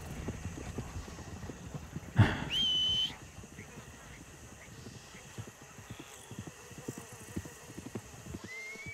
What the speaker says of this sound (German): Ich dachte schon, das Pferd ist weg.